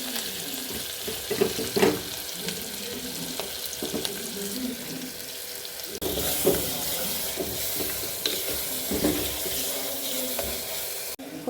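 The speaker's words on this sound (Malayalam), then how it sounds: "നമ്മൾ വെളുത്തുള്ളി, ചെറിയ ഉള്ളി, ഇഞ്ചി ചതച്ചത്, 2 വറ്റൽമുളക് ഇതെല്ലാം കൂടി ഇതിലേക്ക് ഇട്ട് കൊടുക്കും." Garlic, shallots, crushed ginger and dried chillies fry in a pan for a Kerala-style parippu rasam, a moderate, steady sizzle broken by stirring and scraping sounds.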